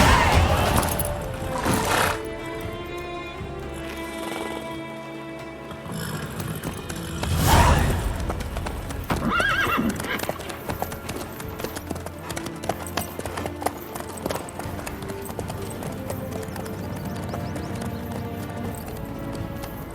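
Horse hooves clip-clop steadily throughout a scene from The Witcher 3, set under a dense bed of game music and ambience, with a brief rumbling swell midway.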